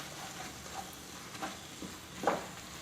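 Vegetable masala powder stirred into a curry in a pan on the stove, heard as a few faint, scattered scrapes and soft sizzles, the last one slightly louder, with no talking.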